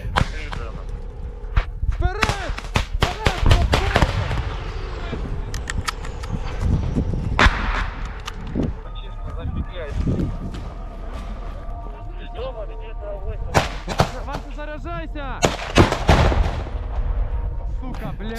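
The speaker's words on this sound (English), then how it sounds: "the men advance under fire, pushing forward even after a failed rocket launch." Helmet-camera combat in Ukraine as Ukrainian special forces assault Russian positions: repeated sharp gunshots and heavy booms in clusters, some close and loud, with shouting voices and radio-like chatter between bursts.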